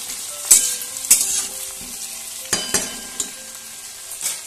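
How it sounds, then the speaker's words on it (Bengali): Onion with grated spices fries in a pan at home, a soft steady sizzle broken by several sharp clinks and scrapes of stirring. "পেঁয়াজটা যেই হালকা একটু ভাজা ভাজা হয়ে যাবে"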